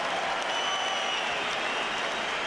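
Steady applause from a boxing crowd, greeting two undefeated champions entering the ring before the scorecards are read. It is a broad, continuous wash of clapping that holds at an even level throughout, with no talk over it.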